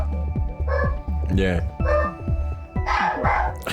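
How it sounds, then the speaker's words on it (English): Dogs bark and yip in the background at home, several sharp barks scattered through the moment while a person speaks over them nearby. "Don't worry about the dogs in the background."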